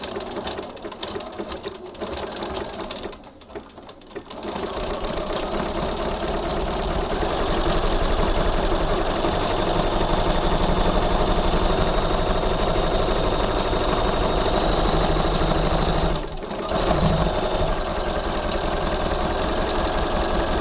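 A sewing machine runs a steady, loud zigzag stitch along the side seam of a tote bag lined with soft foam stabilizer, whirring continuously with only one brief pause.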